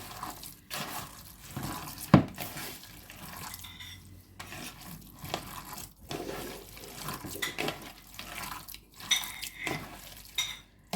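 A spoon scraping and knocking around a bowl as chicken sausage mixture with ground pepper, salt and garlic is mixed, steady soft clattering with an occasional sharper clink, close and unhurried.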